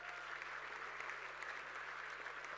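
Applause from an audience at a festival as a retiring university rector is called to the stage, a steady continuous wash of clapping throughout, moderately distant and even.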